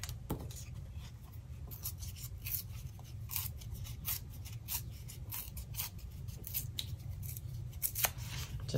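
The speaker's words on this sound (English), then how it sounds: "So I'm just gonna take this and just tear." Paper is torn by hand for a stamped card project, giving a faint, scratchy series of soft rips and rustles close by, spread in short bursts over a quiet background.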